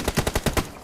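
Rapid burst of about six gunshots fired in quick succession in a video game shooter, loud and close, with no talk.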